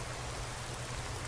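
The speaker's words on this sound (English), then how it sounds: "And it's raining" Rainfall in the video game Skyrim SE, a quiet, steady hiss of drops with a low rumbling undertone that holds unchanged for just over a second, with no voices.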